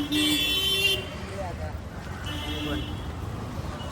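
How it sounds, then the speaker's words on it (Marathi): Traffic from many vehicles rumbles at a busy station, and a horn toots sharply at the start. A mixed hum of road noise and murmuring voices follows, with another faint honk-like tone later. "इथं जास्त गाड्यांचा आवाज येते"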